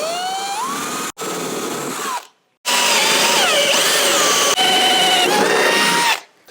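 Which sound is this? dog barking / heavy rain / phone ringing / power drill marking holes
power drill marking holes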